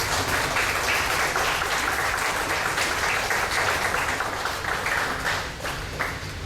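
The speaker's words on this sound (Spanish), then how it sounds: "recibimos con un merecido aplauso" Sustained audience applause at a formal lecture hall event welcomes a judge onto the stage, a dense, even wash of many hands clapping that eases slightly near the end.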